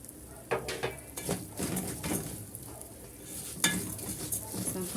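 Rice fried in a pot with a pinch of sugar until browned, stirred with repeated scraping strokes over a steady close sizzle, no talking.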